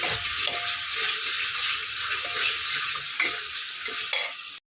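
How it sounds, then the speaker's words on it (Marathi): Red chili powder fries in hot oil with a loud, constant sizzle, and a few scraping stirs punctuate the crackling hiss close up. "आता लाल तिखट सोडे मस्त फ्राय करून घेते त्याच्यामध्ये"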